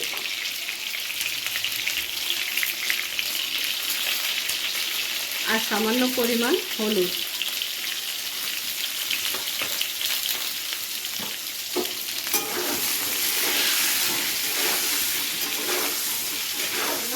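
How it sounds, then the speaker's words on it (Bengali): Pointed gourd (potol) pieces fry in oil with salt and turmeric, making a steady bubbling sizzle throughout, with a brief stretch of speech partway through. "একটু ঘুরিয়ে ফিরিয়ে ভালো করে সব দিকটা ভেজে নিতে হবে।"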